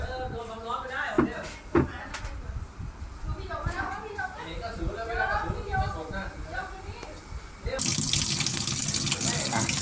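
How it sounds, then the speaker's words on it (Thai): Water flows into a Samsung inverter washing machine under repair, a steady trickle and splash behind someone talking nearby, then a sudden louder rush of filling water in the last seconds. "ปล่อยน้ำแล้วนะครับ ก็แสดงว่าใช้ได้"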